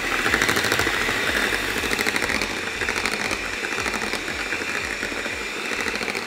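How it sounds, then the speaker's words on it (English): Electric hand whisk whipping cream with sugar and a teaspoon of vanilla extract, a steady rattling motor buzz with rapid rhythmic beater clatter, close and continuous throughout, no talking. "I've turned my whisks down now because it's thickening up and I just want it billow"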